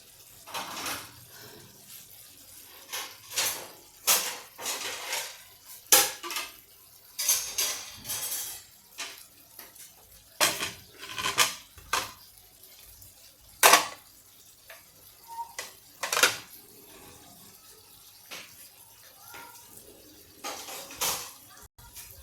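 Plates and cutlery clink and clatter in sharp, irregular knocks while bajri popya and val papdi are plated in a kitchen, with a voice speaking between the sounds.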